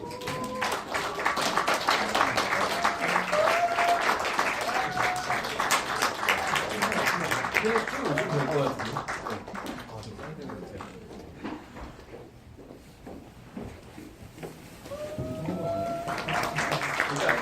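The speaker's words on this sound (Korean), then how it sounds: "입장하실 때 박수 부탁드립니다" Audience applause greets film directors and actors as they walk onstage at a premiere event for an omnibus of five short films; steady clapping fills most of the stretch, thins briefly, then swells again, with a voice speaking over it.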